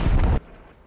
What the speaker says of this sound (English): I assume that was an airstrike